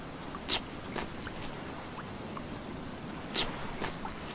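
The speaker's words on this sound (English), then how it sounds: "Especially since it's raining," Rain falls in the Stranded Deep survival game, a faint, soft patter with a few louder drip-like splashes, steady and low beneath no speech.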